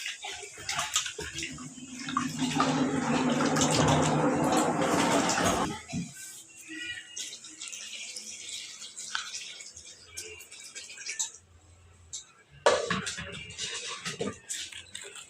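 Leafy greens for gongura dal being washed in water, a loud steady splashing and sloshing for several seconds that then stops, followed by quieter kitchen sounds and a short burst of water near the end.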